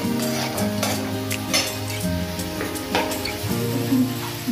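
Grated carrots and beans stir-fry in a pan for chicken fried rice, giving a steady sizzle broken by repeated scraping strokes and light clinks of a utensil against the pan.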